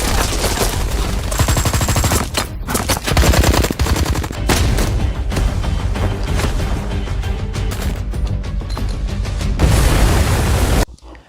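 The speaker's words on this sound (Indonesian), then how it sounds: "Baku tembak kembali terjadi di antara kedua belah pihak." Sustained gunfire from a film gun battle between two armed forces in mountain terrain, with dense rapid bursts and loud shots filling the scene almost continuously before cutting off abruptly near the end.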